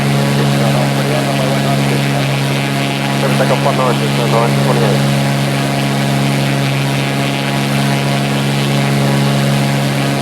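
Steady propeller aircraft engine drone from the X-Plane 11 flight simulator, flying over New Zealand scenery toward a short airport landing, loud and constant throughout with no breaks.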